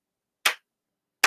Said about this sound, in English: Sarcastic clapping noises.